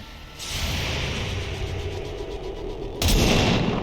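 Sniper rifle shots in a first-person video game, a sharp loud blast near the end following a sustained rushing, roaring bed of battle noise with no speech.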